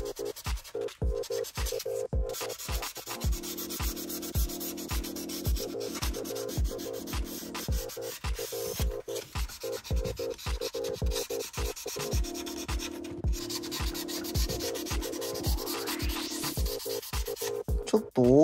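A 1/32 Italeri F-35A plastic model kit roughly sanded by hand gives close, rhythmic back-and-forth rasping strokes, loud and steady throughout.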